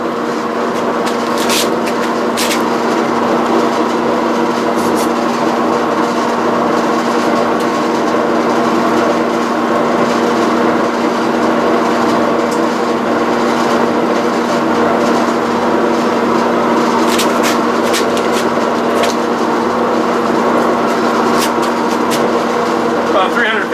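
A wood lathe turns at about 350 RPM while a 2-inch sanding pad works a mesquite burl bowl through the grits, a steady close whine with a constant hum and occasional brief scratchy bursts, with speech over it.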